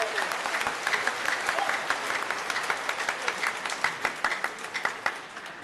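A church congregation claps loudly and together during a homily, producing dense, sustained applause with many distinct sharp claps that carry on steadily, then ease slightly toward the end.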